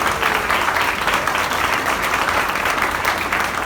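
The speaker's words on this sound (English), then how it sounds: "A little round of applause, a loud round of applause." A college crowd applauds in a sustained, even roar of many hands clapping, fairly loud and continuous throughout.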